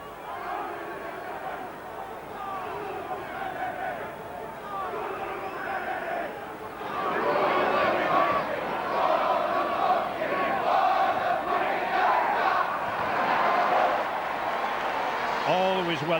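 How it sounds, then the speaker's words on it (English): Fiji rugby league team performing the Cibi war cry at a 2000 World Cup match against England, chanted voices and rhythmic shouts carried over a large stadium crowd, swelling louder about halfway through. "the war cry, the dance, known as the Thimbi in Fiji"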